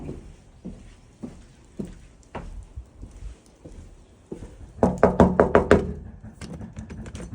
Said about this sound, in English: We are knocking every door trying to see if anybody's here